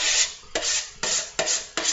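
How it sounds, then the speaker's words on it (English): A utensil scrapes deviled egg filling as the eggs are stuffed, five short rasping strokes in a steady rhythm, close and fairly quiet. "I'm scraping now."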